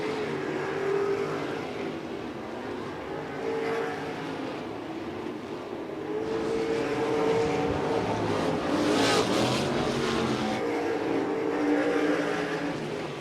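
RaceSaver sprint cars roar around the dirt track at Interstate Speedway, a continuous dense engine drone heard from some distance, swelling louder midway as several cars pass together, with no voices.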